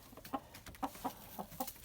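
A Leghorn rooster clucks in short, repeated bursts at close range, several soft calls spaced irregularly with no talking.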